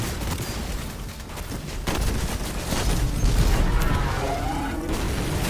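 Hand cannon gunfire in the video game Destiny sounds as repeated loud, punchy shots and booms over a dense, continuous battle din, with rapid bursts throughout.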